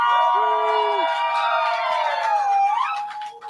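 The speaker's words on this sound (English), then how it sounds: "That's a crowd." A crowd cheering and whooping at the start of a live show, loud and sustained, with shouted voices rising over the roar before it fades.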